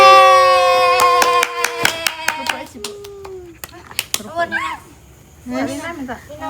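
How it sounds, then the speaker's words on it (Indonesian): Hands clapping at a small family gathering, a run of sharp separate claps after a bright sustained tone, followed by a child's and adults' voices talking and cheering. "Yeay, tepuk tangan"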